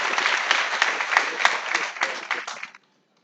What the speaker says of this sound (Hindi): गोरखपुर की जनता जोरदार तालियों से सारे अतिथियों का गर्मजोशी से स्वागत करें